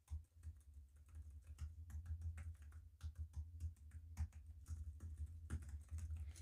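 Typing on the thin keyboard cover for a Samsung Galaxy Tab S8 Ultra, a quiet, close run of light rapid key clicks with brief pauses.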